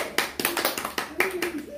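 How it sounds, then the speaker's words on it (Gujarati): Children clapping hands after a classroom colour-matching game, a quick run of uneven close claps with a voice speaking over them. "તાળી પાડો"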